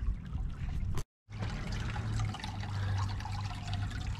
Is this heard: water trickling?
yes